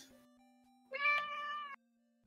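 A pet cat lets out a single clear, drawn-out meow, close and distinct against an otherwise quiet room with a faint steady hum.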